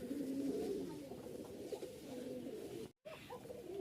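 A pair of Giribaz flying pigeons coo softly and steadily, low rolling calls continuing close by with a brief silent break near the end.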